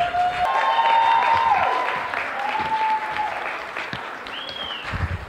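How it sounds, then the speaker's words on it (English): An audience at an expo event claps in a steady round of applause, with whistles and a few cheers over the clapping, which eases slightly toward the end. "so help me give a round of applause to the Foreman Brothers"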